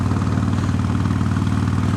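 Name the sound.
motorcycle engine on the open road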